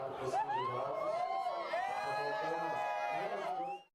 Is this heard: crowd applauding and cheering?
yes